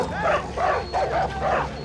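Dogs fighting in the video game Far Cry New Dawn bark and snarl in quick repeated bursts, about five rough yaps in under two seconds, sounding agitated and close.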